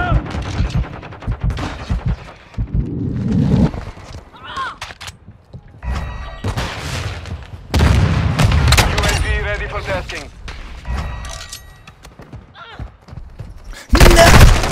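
Gunfire in Call of Duty MWII multiplayer, with bursts and booming shots scattered across the scene, loudest near the middle and at the end, mixed with game effects and voices talking throughout.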